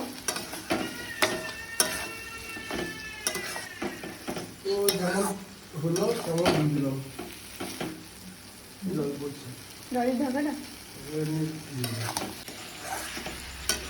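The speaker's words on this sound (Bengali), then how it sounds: "ভালো করে মশলার সাথে মটনটা মিক্স করে নেব।" Marinated mutton frying in a pan with spices, stirred in steady bursts of sizzling and scraping, close and fairly loud, with a voice talking quietly underneath at times.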